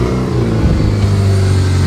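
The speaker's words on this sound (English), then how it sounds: "this thing does sound like a bit of a race car." A scrapyard car's engine revs steadily with a holed, blown exhaust, giving a loud, close, raspy drone that holds at an even pitch for a couple of seconds with no talking.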